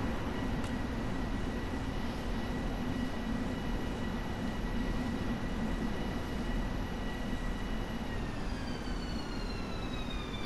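A train in Train Sim World rumbles steadily as it slowly comes to a stop, a continuous low roar with thin whining tones that slide downward near the end.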